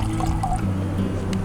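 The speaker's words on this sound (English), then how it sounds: "Come on, water! Boil!" Water heats toward a boil in a pot on a camp stove, with a dense low rumble and light bubbling and dripping textures, steady and close throughout.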